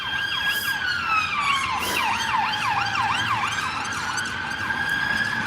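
Two police cars pass with sirens blaring, rapid yelping wails layered over a steadier sweeping tone, loud and close for several seconds over a low rumble of street noise.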